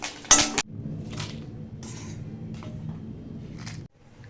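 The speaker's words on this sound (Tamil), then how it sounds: "ஒரு கைப்பிடி அளவுக்கு வேர்க்கடலை போட்டுக்கிறேன்." A handful of peanuts drops into a pan with curry leaves and dried chillies for tamarind rice, a bright metallic clatter at the start followed by a low rattling and shuffling in the pan.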